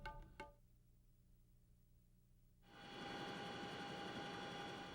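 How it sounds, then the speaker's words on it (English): A U.S. Army CH-47 Chinook helicopter flying over interior Alaskan forest: after a quiet stretch with a brief knock, a loud, steady rotor and engine roar swells in and holds near. "A U.S. Army CH-47 Chinook helicopter flies over the forests of interior Alaska."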